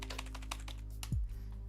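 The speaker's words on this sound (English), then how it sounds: "Why is my keyboard not working?" Typing on a computer keyboard, a brief run of light, quick keystrokes close up with a low hum underneath and one soft thud near the end.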